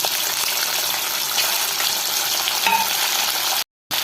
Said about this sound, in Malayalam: വെറും ഇഡ്ഡലി നമുക്ക് ഉണ്ടാക്കിയ ഇഡ്ഡലി കട്ട് ചെയ്ത് ഈ എണ്ണയിൽ മൊരിച്ചെടുക്കുക